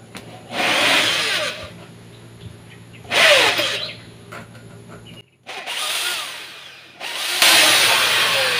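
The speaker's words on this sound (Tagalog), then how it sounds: "Unahin natin yung 332 na bala ng drill bit, yung drill bit." A power drill fitted with a 332 drill bit bores holes while building a used-oil burner stove, with several separate bursts of whining, grinding drilling between quiet pauses, close and fairly loud.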